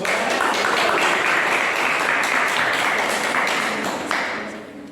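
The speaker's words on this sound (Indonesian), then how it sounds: "Ayo tepuk tangan deh." Steady applause from an audience at a teacher-training performance assessment, dense clapping held at a constant level for several seconds before thinning and fading toward the end.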